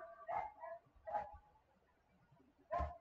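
A small digital dog gives three short, faint barks as the Bolt Hound card is played in an MTG Arena Historic Brawl game, spaced about a second apart over quiet game sound.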